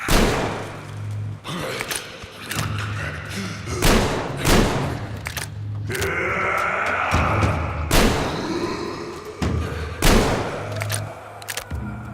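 The A-Shot shotgun fires in the video game Metro Exodus, heavy booming blasts roughly every one to two seconds amid thuds and combat noise, loud and close.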